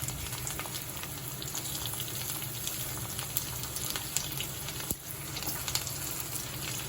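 Finely chopped garlic fries in hot oil in a pan while cooking a Bengali pumpkin and prawn dish. A steady, even sizzle runs throughout, broken by a few faint clicks and pops.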